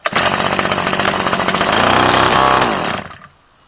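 Small Mitsubishi engine running after a carburetor adjustment, a loud buzzing close-up drone that revs up briefly before cutting out and stopping.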